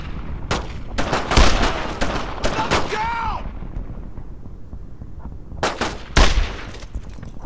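Gunfire in the World War II shooter Brothers in Arms: Road to Hill 30, a cluster of loud close shots and volleys early on, then a lull and two more sharp bursts, with shouted voices mixed in.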